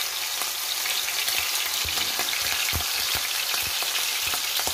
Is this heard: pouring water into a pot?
no